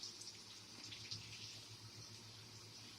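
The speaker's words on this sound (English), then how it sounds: "take this roast out and you're just going to rinse it off real good" Running tap water rinsing a raw beef roast in a sink, a quiet, steady splashing flow with a low hum underneath, continuous throughout.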